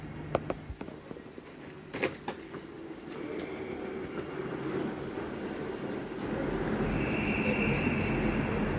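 A South Western Railway train at London Waterloo rumbles and hums close by, a few sharp clicks early on, then a rising, steady rolling drone.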